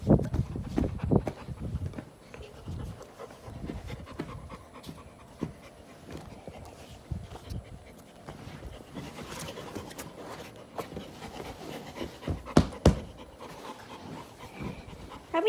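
A dog pants in quick, close breaths, with paw steps and shuffling mixed in, uneven loudness and occasional sharper knocks.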